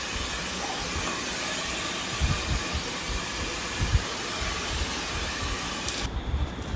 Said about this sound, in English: you can dry it with blower